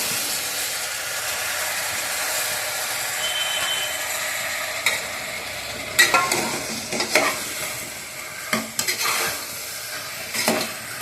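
Chopped tomatoes hit a pan of ginger garlic paste for tomato rice, a bright continuous sizzle with repeated spatula scrapes and clatters growing busier in the second half, close and loud, no voices.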